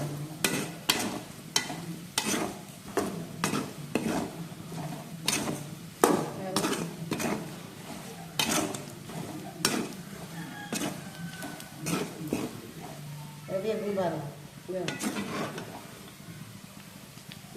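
A spoon scrapes and stirs salted meat curry as it fries in a pan with crushed pepper and cumin, giving steady, rhythmic strokes close by. A voice is briefly heard near the end.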